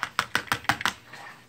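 A hand-rolled kitchen chopper gadget chops food with six quick, evenly spaced clacks at close range, then a brief soft rattle with no talking.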